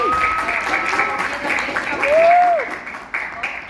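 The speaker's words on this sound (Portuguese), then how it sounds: "Eu queria fazer uma salva de palmas para a" Audience applause for a professor at the close of an academic panel session, steady clapping across the clip with a voice talking over it and a thin whistling tone rising and falling midway.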